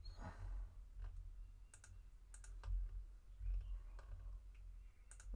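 Light computer mouse clicks while working in RADAN 2D CAD software, a handful of soft, sharp clicks spaced irregularly over a faint low hum, close and quiet, with no talking.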